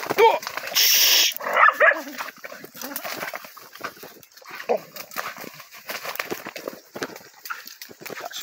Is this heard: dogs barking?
yes